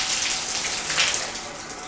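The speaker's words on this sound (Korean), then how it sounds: "이렇게 흐르는 물에 한 1, 2분 정도" A fishing rod is rinsed under lukewarm running tap water, a steady, close hiss of flowing and splashing water that continues unbroken throughout with no voices.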